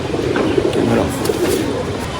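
A female domestic pigeon in a home loft gives a short, low, murmuring coo up close over a steady background hiss.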